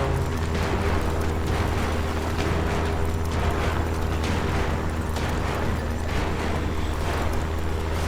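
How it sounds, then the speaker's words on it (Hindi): A short circuit crackles in a solar panel with a broken wire, producing a loud, steady electrical buzz over a low hum that runs unbroken for the whole stretch. "लगता है सोलर पैनल में तार टूटने की वजह से शॉर्ट सर्किट हो रहा है।"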